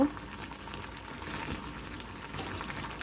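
Beef liver cooks in a pot with special garam masala and cumin, giving a steady, close bubbling sizzle that runs on without pause and without talk.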